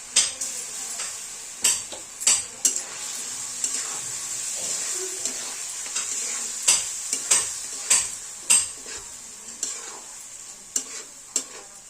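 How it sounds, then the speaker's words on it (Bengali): Rice and lentils being stir-fried with spices in a pot for bhoger khichuri, a steady sizzle broken by repeated sharp scrapes and knocks of a spoon against the pot, close and fairly loud, no talking. "এবার ডাল চালটা একসাথে দিয়ে কষিয়ে নেবো"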